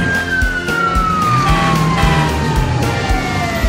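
A fire truck siren wails loudly and steadily inside a bouncy children's song about rescue vehicles, with a falling tone sweeping over a regular beat.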